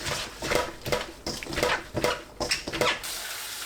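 Bellflower root rinsed by hand in a basin of water, rhythmic sloshing and splashing in quick repeated strokes, close and fairly loud.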